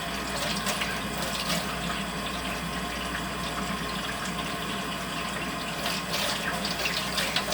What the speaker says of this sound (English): turning my water faucet, waiting for warm water